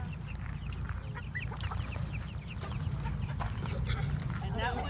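Backyard chickens, including a golden laced Cochin Bantam, clucking and chattering softly close by, continuous scattered clucks with people talking throughout.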